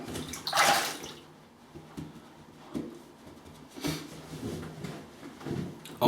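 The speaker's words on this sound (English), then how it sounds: "I'll just have a rinse and I'll come back." Running water gushes and splashes as a Merkur 37C safety razor is rinsed under the tap between shaving passes, with short bursts of flow, faint clinks and no talking.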